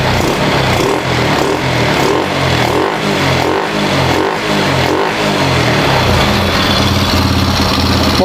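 The engine of a Honda Supra 125 motorcycle with a large carburettor revs loudly up close, its throttle pulsing in rhythmic bursts over a continuous throaty drone.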